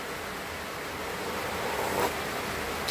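Wind and rain during Typhoon Kristine, a steady broadband rush of gusting wind and rainfall with a brief louder swell, continuous and fairly close.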